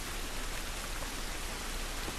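Rain falling outdoors in the video game The Last of Us, a soft, dense, even hiss of drops with no breaks, heard alone and fairly faint.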